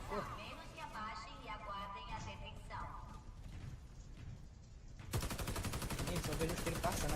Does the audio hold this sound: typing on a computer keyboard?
no